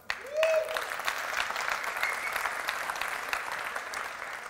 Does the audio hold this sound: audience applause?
yes